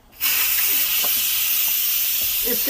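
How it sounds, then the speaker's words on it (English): A pressure cooker of vegan black bean and sweet potato chili vents its steam, a loud, close hiss bursting on suddenly and holding steady to the end with faint background voices. "When you open up the pressure cooker, you just flip."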